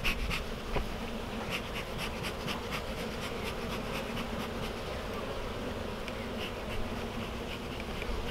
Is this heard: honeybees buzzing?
yes